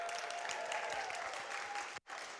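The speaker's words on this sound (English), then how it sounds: "give yourselves a round of applause" Applause from a children's story hour audience at a drag queen reading, a steady soft wash of many clapping hands that cuts off abruptly near the end, then resumes briefly.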